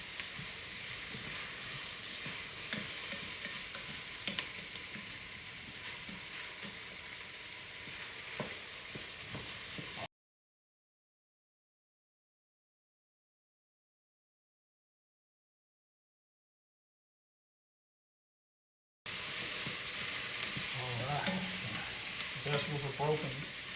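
Chopped vegetables for a homemade pasta sauce sizzle and sweat down in oil in a pan, a continuous close frying hiss with occasional stirring scrapes, broken by a long silent gap before the sizzle resumes.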